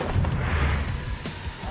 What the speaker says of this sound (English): Rocket launcher in the face.